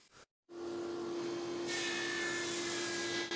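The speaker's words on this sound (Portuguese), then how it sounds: "Vou lixar isso porque não gostei do resultado." Power sander on reclaimed pine wood starts up after a brief gap, then a steady high whining hum with a brighter abrasive hiss as it bears down on the board, continuous and close.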